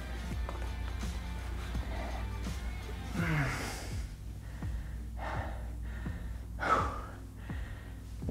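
Heavy, gasping breaths close up during a resistance band leg workout, several sharp inhales and exhales at irregular intervals over quiet background music.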